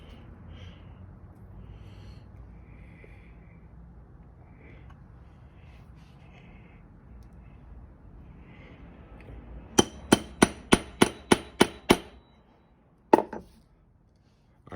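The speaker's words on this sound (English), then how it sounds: "Put it on my little vise here, and you'll see it flatten right out when I tap it." A small punch tapped against a spent centerfire primer held in a little vise: a quick run of about eight sharp metallic taps, then a single louder tap after a short pause, close up and on their own.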